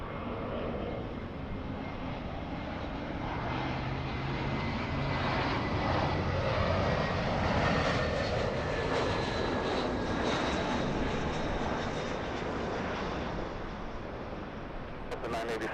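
A jet airliner roars at LAX, its engine noise swelling to a broad, sustained rush and then easing, heard from nearby with a faint voice in the background.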